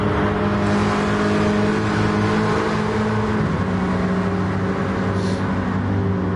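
A race car in a PS4 racing game powers hard out of a right-hander and climbs through the gears, its steady engine drone loud and continuous with a brief dip around a shift midway.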